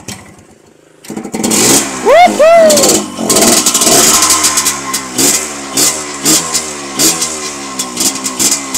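A newly bought small motorcycle's engine revs and idles steadily up close, with an excited shout and lively chatter over it.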